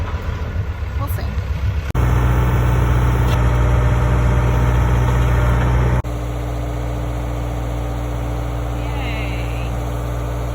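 A backhoe's diesel engine runs loud and close at a dig pit, a heavy steady rumble that jumps louder after two seconds and then drops to a lower idle-like drone around six seconds.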